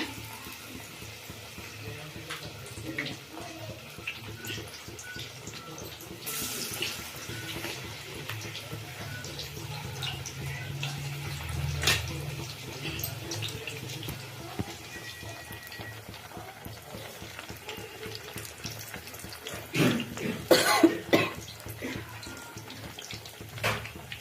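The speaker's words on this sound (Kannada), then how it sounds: "ಈಗ ಒಂದೊಂದೇ ಒಂದೊಂದೇ ಎಣ್ಣೆಗೆ ಹಾಕ್ಕೊಳ್ಳೋಣ" Eggplant slices placed one by one into hot oil, frying with a soft continuous sizzle and bubbling with occasional louder crackles, heard close and fairly quiet.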